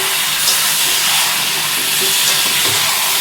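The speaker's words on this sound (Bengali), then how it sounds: "এবার একটু দিয়ে দেবো সামান্য পরিমাণে জল।" Water poured into a pan of frying potato and cauliflower curry, tel fulkopi, sets off a steady, loud sizzle and hiss that runs evenly throughout, with no talking.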